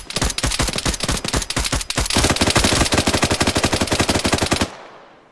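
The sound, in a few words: gunfire in video game Arma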